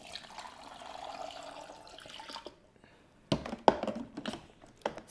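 Water pours from a measuring cup into the chamber of a Cuisinart BFM-1000 baby food maker and bottle warmer: a steady splashing trickle for a couple of seconds, a pause, then scattered drips and plastic clicks.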